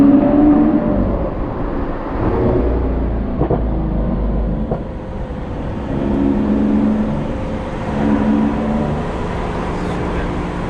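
Lamborghini Aventador S engine revving, a loud, steady roar that swells and eases over about ten seconds, with voices talking over it.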